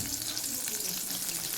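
Homemade KFC-style chicken fries in a pan with a steady, dense crackling sizzle of hot oil, close and continuous without pause.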